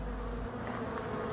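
Honey bees licking the last honey from emptied hive frames, giving a soft, steady insect hum close by with no voices.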